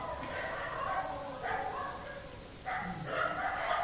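A dog barks and yowls in a few drawn-out bursts at a moderate distance, with a pause before the final cluster, all over steady low background noise.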